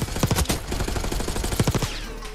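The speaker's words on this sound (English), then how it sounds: "Mans was trying to shoot at me with his pistol." Rapid pistol fire in the Black Ops 6 video game, close cracking shots in quick bursts of several, with a short pause between volleys.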